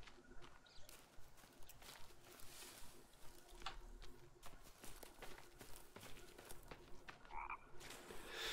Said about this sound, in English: Shut up, frog! You're not really there!